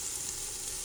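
An onion mixture frying in a pot for lentil soup gives a brief, even, hissing sizzle, steady and moderately quiet, with no voices.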